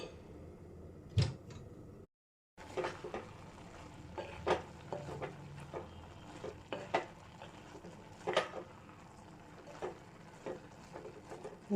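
A spoon stirs cooked green gram and spinach in a pot, producing scattered clinks and scrapes against the metal with soft wet shuffling between them, close up at a quiet level with a short silent gap near the start.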